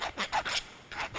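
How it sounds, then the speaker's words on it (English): A hand file rasps across a metal workpiece to remove a burr, with a few short, close scraping strokes and a brief pause between them. "So I'm just going to use a file. Just remove that burr sticking out there."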